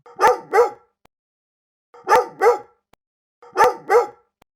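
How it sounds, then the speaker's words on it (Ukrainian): Recorded dog barking, three pairs of quick sharp barks spaced about two seconds apart, clear and close with silence between. "Вона собака, він пес, дитинча цуценя. І послухаємо їхні звуки."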